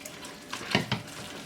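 Water trickles slowly into thick besan batter in a bowl, a steady soft pouring with a couple of brief splashy accents, fairly quiet and close, with no talk.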